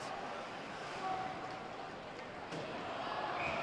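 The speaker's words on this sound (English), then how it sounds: "the crowd cheers after the puck was caught" Ice hockey crowd at a college arena, Wisconsin Badgers against Michigan Wolverines, a broad steady wash of cheering and murmur with slight swells, no distinct voices standing out.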